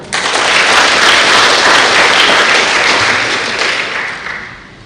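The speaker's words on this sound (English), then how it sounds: "let's clap for Comrade Brown" An audience at a youth public speaking competition applauds for a speaker, a dense, steady wash of clapping that starts abruptly, holds loud for several seconds and tapers slightly at the end.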